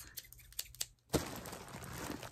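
A few sharp scissor snips sound close by, cutting open a heavily taped package of yarn, followed by a burst of crinkling and rustling packaging material.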